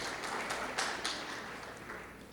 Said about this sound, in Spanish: Un aplauso nuevamente para el doctor.